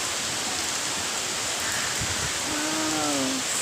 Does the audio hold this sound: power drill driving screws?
no